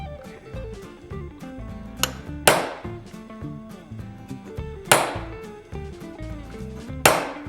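A hammer drives a chasing tool into sheet metal during repoussé work: three loud, ringing strikes spaced a couple of seconds apart, with lighter taps between them, all over a steady tonal background.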